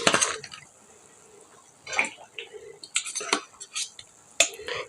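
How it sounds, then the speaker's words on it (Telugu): Fish pieces being moved with a utensil into a pot of fish curry: intermittent metallic scrapes, clinks and soft wet plops, close and moderately loud, with brief pauses between them. "సో నేనేం చేస్తానంటే ఈ ఫిష్ ముక్కలు మొత్తాన్ని కూడా అందులోకి నేను ట్రాన్స్ఫర్ చేసుకుంటాను అనమాట"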